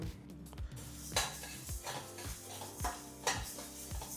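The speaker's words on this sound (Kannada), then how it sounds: "150 ಗ್ರಾಮಷ್ಟು ತೊಗರಿ ಬೇಳೆಯನ್ನು 5ರಿಂದ 6 ನಿಮಿಷ ಹುರ್ಕೋಬೇಕು" About 150 grams of toor dal is dry roasted in a pan and stirred, giving a run of repeated scraping, rattling strokes with a faint dry sizzle, close and unaccompanied.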